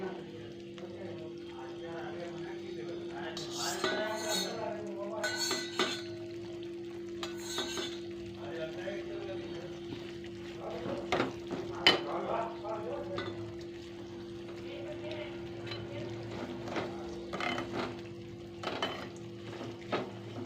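Oil sizzles in a pan while a spoon stirs and scrapes through it, with occasional metallic clinks throughout.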